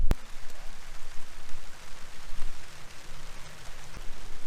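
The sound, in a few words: rain starting to fall outdoors in a garden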